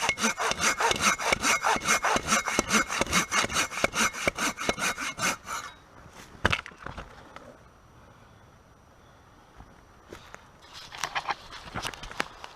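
Silky Big Boy pruning saw cutting old, hardened oak with quick rhythmic back-and-forth strokes for several seconds, then quiet, then a few more strokes, close and clear.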